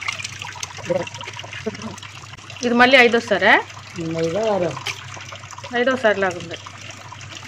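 Goat tripe rinsed under running water, a steady soft trickle and splash running beneath people talking and counting rinses aloud.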